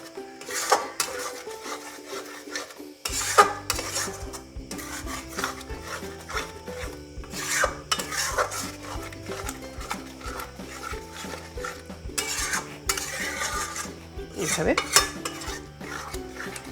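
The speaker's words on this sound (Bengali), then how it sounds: "এবার দইয়ের কাঁচা গন্ধটা যাওয়া পর্যন্ত ভালো করে কষে নিতে হবে" Mutton and yogurt are stir-fried in a pan, with repeated scraping, rubbing and stirring strokes of a spatula against metal coming in uneven bursts, close and fairly loud, without talk.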